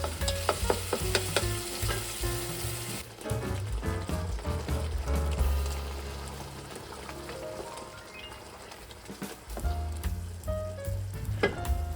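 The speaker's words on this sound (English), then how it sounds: "add a can of tomato and stir well and simmer for 2-3 minutes to allow excess moisture to evaporate" Tomato sauce with vegetables simmering and being stirred in a pan, a close wet bubbling sizzle with repeated scraping stirs and small clatters throughout, no voices.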